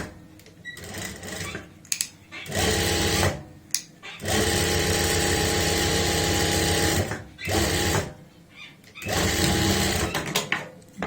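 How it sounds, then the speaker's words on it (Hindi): A sewing machine stitches a half-inch seam on a chudidar pajami, running in several close bursts of steady whirring and rapid needle clatter, separated by brief pauses with faint handling noise. "हमने आधा इंच का मार्जिन लेते हुए सिलाई लगा दी है"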